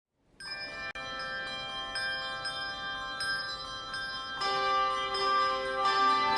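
Handbells rung by a church-sponsored bell choir, a sustained shimmer of bright, ringing overlapping tones that swells and grows louder after a new cluster of bells is struck partway through. No voices are heard.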